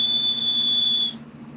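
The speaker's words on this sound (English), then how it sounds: "Dog whistle." A high, thin, steady whistle tone holds for about one second and then cuts off, close and fairly clear, over a low background hum.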